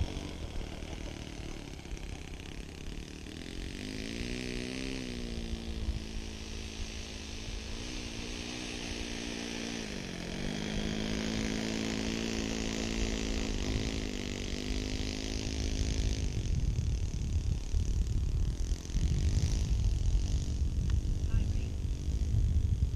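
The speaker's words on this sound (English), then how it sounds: "Motor seems to be running pretty good." An OS 26 FS four-stroke engine running on a small yellow sport model airplane, a steady buzzing drone whose pitch wavers up and down, with a rougher, windier roar toward the end.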